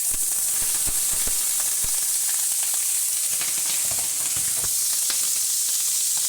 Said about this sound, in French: Voici les champignons dans la poêle avec de l'huile d'olive